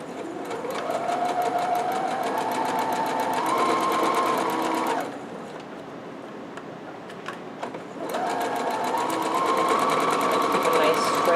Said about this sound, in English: go forward a few stitches, go back a few stitches